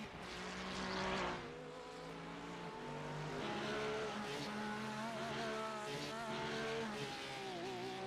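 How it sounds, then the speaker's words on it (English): Race car engines in a GT sprint series sim racing game: a steady, fairly faint drone of engines that rises and falls with throttle, with pitch shifting through gears and a touch of tire squeal, continuing throughout without talking. "listen to that throttle"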